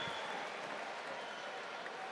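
Boxing crowd applauding after a fight between Carl Frampton and Horacio Garcia, a dense, steady wash of clapping and crowd noise filling the arena for the whole moment with no clear break.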